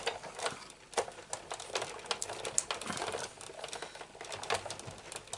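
Paper card for a Stampin' Up Petal Palette project is cut in a quiet run of close, irregular snips and crinkles with brief pauses and no talking.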